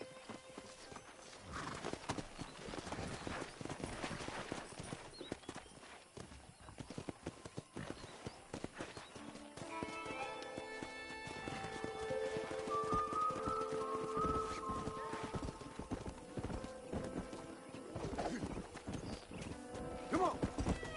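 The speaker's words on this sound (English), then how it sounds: "That ranch hand said there's a pack of wild horses nearby." Wild horses gallop in the Red Dead Redemption video game, a steady, busy clip-clop of many hooves with occasional neighs and whinnies, the hoofbeats growing denser and louder in the second half, with faint voices at times.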